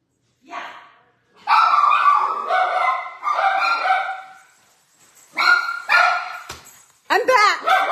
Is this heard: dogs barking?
yes